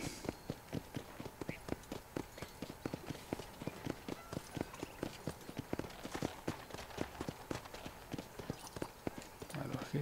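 Horses clip-clop along at a brisk trot in Red Dead Redemption, with rapid, evenly spaced hoof strikes over a low ambient bed. The hooves sound moderately close and keep going throughout.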